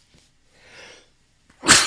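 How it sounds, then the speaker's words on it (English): A person sneezes close to the microphone, a single sharp, loud burst at the end, preceded by a soft breathy intake. "I'm sneezing into the microphone"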